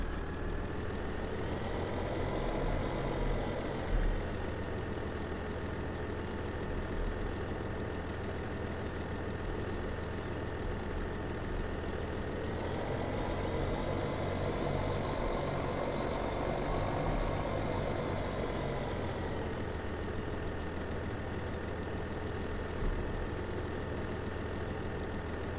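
Tractor engine idling in Farming Simulator 17, a steady low droning rumble with a slight rise and fall in pitch, continuous and close throughout with no speech.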